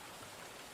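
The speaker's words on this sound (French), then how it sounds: "Je vais baisser le bruit de la pluie" Rain ambience sound effect in a tabletop role-play session set in a dark forest: a dense, even hiss of steady rainfall, soft and continuous without breaks.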